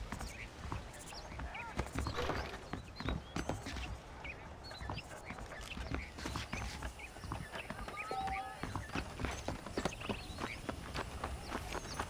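Horse hooves clip-clopping in Red Dead Redemption, a steady rhythmic run of close hoof strikes continuing throughout, with quiet background ambience and voices mixed in.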